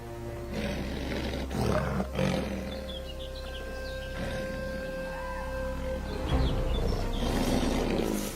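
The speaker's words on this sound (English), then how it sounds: "the deep roar of an adult male lion echoes across the plains" An adult male lion roars deeply on open savannah, a loud series of heavy, rumbling calls running through the whole stretch, with faint bird chirps in the background.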